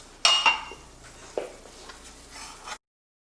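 Garlic and onions tipped into hot melted butter and oil in a soup pot, a sharp clatter and quick scrape followed by a low sizzle and a final knock of the pan.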